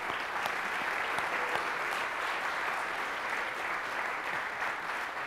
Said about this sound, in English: let's have a round of applause for Manish Kanchan